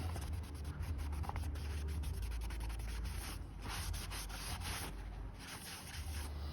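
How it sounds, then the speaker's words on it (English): A cloth soaked in alcohol rubbing over a plastic solar yard light housing, a continuous close scrubbing and rubbing with rhythmic strokes, fairly faint, with no speech. "I'm gonna give it a wipe with the alcohol just to make sure you get any leftover grime off"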